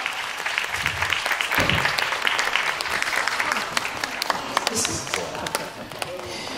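Warm audience applause fills a hall at the Ten Outstanding Young Persons award ceremony honouring a singer: steady, dense clapping from a large crowd that continues throughout with a few sharper claps standing out.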